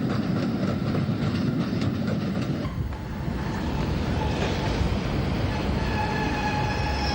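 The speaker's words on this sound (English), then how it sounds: "An electric multiple unit arrives from Haywards Heath." An electric multiple unit train arrives from Haywards Heath on a Southern branch line, a loud steady rumble of wheels with clickety-clack rhythm that settles into rolling noise and faint squeals, with no talk.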